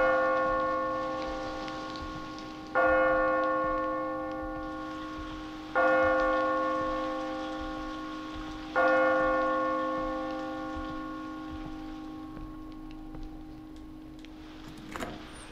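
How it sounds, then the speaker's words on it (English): A bell rings in the White Day school horror game, four slow, resonant strikes about three seconds apart, each ringing out and decaying before the next, the last fading into a quiet room. "Why do I hear a bell ringing?"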